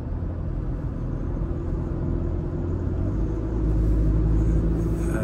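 A 2024 JAC T8 pickup truck drives along, giving a steady, close low engine and road rumble that swells slightly louder toward the end, with no talk over it.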